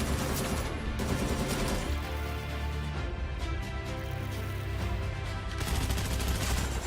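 Continuous gunfire from the shooter game Arena Breakout, weapons firing with realistic recoil in a steady, loud rattle that runs throughout with slight swells, and no voices.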